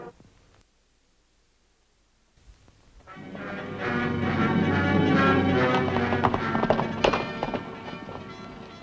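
After a brief silence, rhythmic horse hoofbeats rise and gallop steadily, growing louder under a swelling musical backdrop in the opening of The Lone Ranger radio drama.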